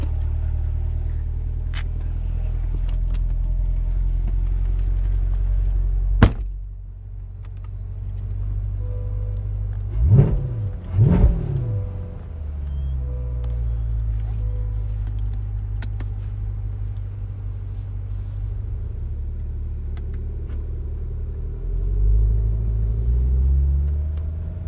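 A 2020 Chevrolet Corvette C8 Stingray coupe cruising on a backroad, heard from inside: a low, steady engine drone and road rumble, with a brief rev swell near the middle and sharp clicks from the cabin.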